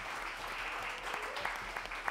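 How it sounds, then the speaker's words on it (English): Audience applause at a live concert at the Sylvia Center, a steady wash of clapping at moderate level with a few individual claps standing out. "So let's give a round of applause to those three folks."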